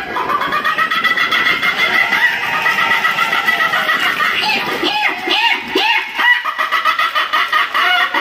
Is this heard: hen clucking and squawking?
yes